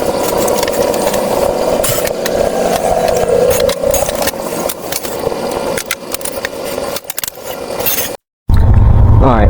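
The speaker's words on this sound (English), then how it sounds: "we're going to go ahead and drill these rivets out and see if we can't get this center out" A drill works through the rivets on the pulley center of a lowered MTD riding mower, a steady loud whine with uneven bites and pauses, then a brief silence and a burst of noise at the end.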